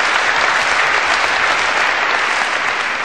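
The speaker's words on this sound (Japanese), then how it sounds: "もう一度拍手を4人に。" Concert audience at a 1976 show applauding the arrangers and musicians, a dense, sustained wash of clapping from a large crowd that holds steady throughout.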